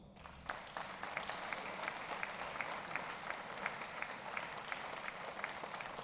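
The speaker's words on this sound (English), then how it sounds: "please applaud Patricio Conejo" Audience applause at the 2016 Davis Cup draw ceremony in Santiago, a steady, faint wash of clapping from a crowd with a few distinct claps standing out, continuing throughout.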